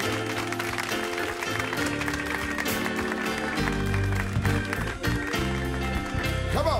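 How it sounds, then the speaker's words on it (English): An audience claps in a Lutheran church in Milwaukee, with steady clapping running under loud music throughout. "Let's clap in front here."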